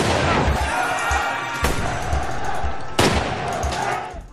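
Bursts of gunfire crack through a dense, roaring film battle scene as rebels shoot blindly, with two sharp loud shots standing out over continuous chaotic noise.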